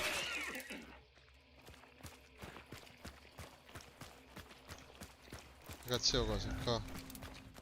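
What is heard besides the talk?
horse hooves in video game Human Hunt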